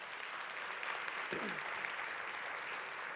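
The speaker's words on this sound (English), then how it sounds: "Let's give them all a round of applause." Faint, distant applause from an audience at a business event, a soft continuous wash of clapping with a brief murmur of voices partway through.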